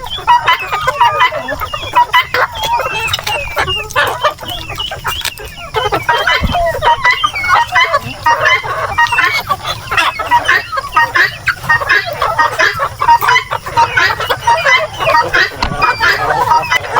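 Native heritage chickens cluck steadily and densely throughout, a busy flock close by with overlapping calls and occasional crow-like notes.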